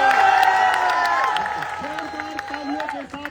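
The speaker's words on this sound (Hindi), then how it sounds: "जोरदार तालियों के साथ राकेश यादव सर का स्वागत किया गया।" A protest crowd in Delhi gives Rakesh Yadav sir a loud welcome, with sustained clapping, cheers and whoops under overlapping voices that slowly fade.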